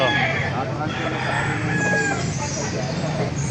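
Roosters at a gamefowl market at a Baliuag tyangge crow amid steady crowd noise and people talking, with a bird call near and several others behind.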